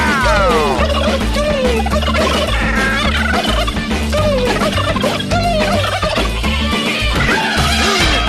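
Repeated turkey gobbling calls ring out over a loud, bouncy music track, the warbling gobbles recurring in quick bursts throughout.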